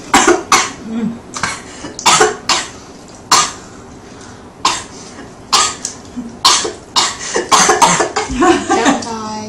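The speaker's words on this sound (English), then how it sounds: "I knew I was going to have a coughing fit in the middle of this." A person in a coughing fit, with harsh, loud, close coughs coming in irregular clusters over about ten seconds, quickening into a rapid run near the end.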